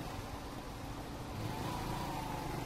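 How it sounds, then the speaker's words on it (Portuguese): Cars moving in city traffic at a closed traffic light, a low steady engine rumble heard from a small motorcycle waiting, with a vehicle's engine rising slightly midway. "Vamos esperar os carros passar ali também"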